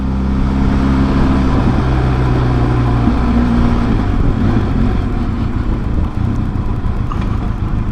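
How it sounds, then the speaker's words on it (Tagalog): Benelli TRK 502X adventure motorcycle with its engine running steadily and loudly at close range, a constant low rumble with no speech over it. "Ayos tong motor na to guys."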